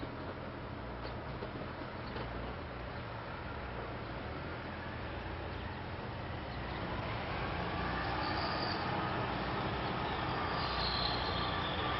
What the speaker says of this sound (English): we have an R1 airport-bound train that came down from Warminster